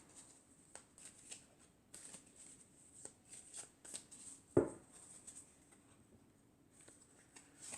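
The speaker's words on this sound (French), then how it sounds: "je vais tirer 4 cartes pour commencer" Tarot cards being shuffled, a run of soft, irregular riffling and slapping bursts with one sharper snap midway, close and fairly quiet.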